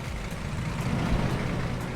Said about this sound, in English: We're just after spotting our first bus on the entire island, and it's a big one.